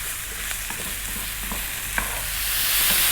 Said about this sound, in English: So you can see that the mushrooms have reduced down, and you can hear that they're giving out some moisture.